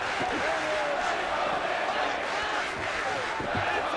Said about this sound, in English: Crowd trying to rally behind Bisping